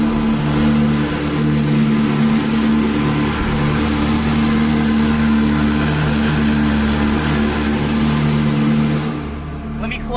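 Loud Ferrari V8 on a cold start with its exhaust valve closed, rumbling at a steady, heavy idle for about nine seconds before fading slightly at the end; a voice can be heard faintly beneath it.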